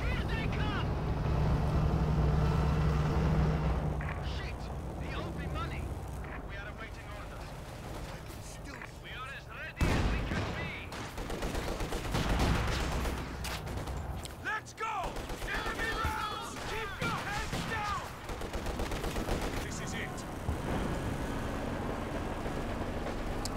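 Gunfire from battle in the video game Company of Heroes 2: scattered bursts and rattling shots crackle throughout over engine rumble, mostly heard beneath a commentator talking.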